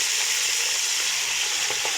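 Baby spinach frying in a pan, a steady bright sizzle and crackle running throughout with faint stirring scrapes near the end, close up and without voices.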